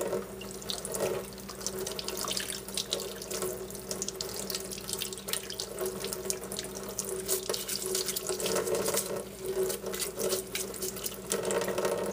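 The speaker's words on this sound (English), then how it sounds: "I've scrubbed away and washed every single part" Resin model kit parts for a 1/100 Geara Doga are washed under a running tap, a steady close splash of water into a sink with faint scrubbing and no talk.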